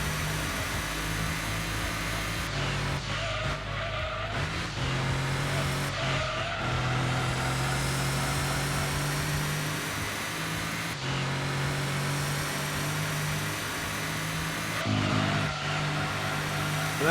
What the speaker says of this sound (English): it's definitely a boxer engine